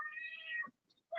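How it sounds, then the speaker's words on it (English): A cat gives one close, clear meow that trails off, followed by near silence and the start of another sound at the end. "This damn cat."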